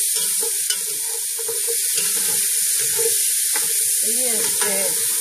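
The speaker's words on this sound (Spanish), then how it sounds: "Así revolvimos la cebolla junto con el tocino." Onion and bacon fry in a pan with a constant bright sizzle while a utensil stirs them, and a voice talks in short bursts close by over the frying.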